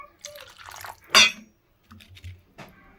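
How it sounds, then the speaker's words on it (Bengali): Water poured from a container into a mixed prawn curry mixture in a bowl, a brief splashing pour amid soft clinks of utensils and quiet kitchen handling. "মাপ মতন একটু পরিমাণ মতন জল দিয়ে দেবো।"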